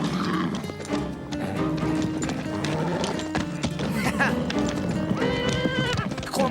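Horses gallop with rapid clip-clopping hoofbeats and give occasional neighs and whinnies, fairly close, while voices shout over the commotion.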